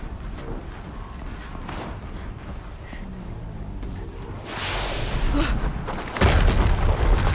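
Heavy rumbling booms from explosions in Horizon Zero Dawn's Maker's End, building in loudness over a dense noisy game soundscape with a sharp, louder blast near the end.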